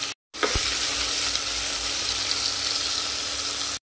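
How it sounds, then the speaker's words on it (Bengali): Chicken stew with green chillies frying in a pan, a steady, close sizzle that never lets up, with a short clatter of stirring near the start. "কাঁচা লঙ্কা সব কিছু দিয়ে আবার একটু নাড়াচাড়া করতে হবে।"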